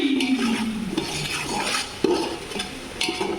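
A spoon scrapes and stirs spices frying in a pot for Bangladeshi-style tehari kabuli rice with dried lemon. Oil sizzles steadily beneath repeated metallic scrapes and clinks against the pan, close and clear.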